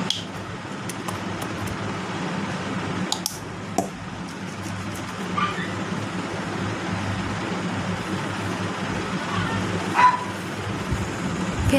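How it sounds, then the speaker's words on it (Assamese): A dog barks a few scattered times somewhere outside, faint and distant, under the steady whir of an indoor fan and room noise. "পিছফালে কুকুৰেও ভুকি আছে"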